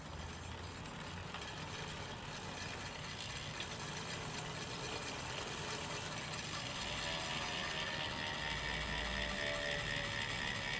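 An ELS Pro 51 mm deep-dish carbon rear wheel with a Bond trigger hub freewheeling, giving a continuous fast buzzing ratchet of pawls up close, steady and fairly loud with no speech.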